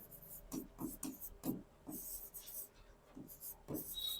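Pen writing during a horticulture class on banana pests, a series of short scratchy strokes in quick bursts, soft and close with no talk over them.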